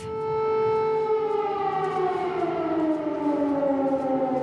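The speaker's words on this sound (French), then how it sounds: "Les premières sirènes plongent les Ukrainiens dans la guerre." A loud air raid siren in Kyiv, Ukraine, wails steadily, its pitch slowly sliding downward as it winds down, with no voices.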